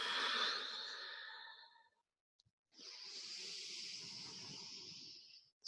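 Two long, soft exhaled breaths during a yoga flow, each a breathy airy rush tapering off, separated by a brief quiet pause, close and intimate with no talking.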